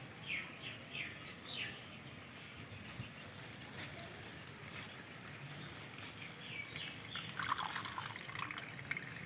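Coconut milk poured into simmering fish curry, a soft continuous trickle and splash of liquid with a brief stronger gush near the end.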